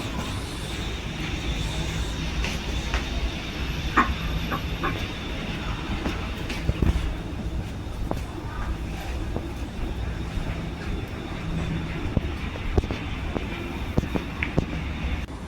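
A train in Singapore running steadily, its rumble and clattering wheels continuous, with occasional clunks and faint background chatter.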